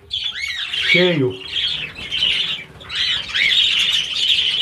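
Female budgerigars released into the males' aviary, a crowded flock of small parakeets chattering and squawking continuously, with sharp nearby calls over a dense warbling background and someone speaking briefly.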